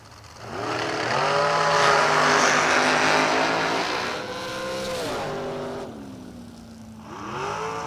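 A dragster launches and roars down a drag strip, a loud engine note that climbs in pitch through gear changes, then fades and rises again as the car tears toward the top end.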